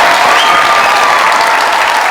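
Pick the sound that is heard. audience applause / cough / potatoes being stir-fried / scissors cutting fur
audience applause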